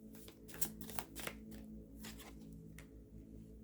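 Tarot cards shuffled and handled by hand in a quiet room, several soft riffling bursts and slaps close by with a faint steady background hum.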